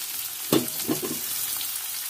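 Tomatoes drop into a hot pan and fry, giving a sudden close sizzle and a second splash of hiss over a constant bright frying noise.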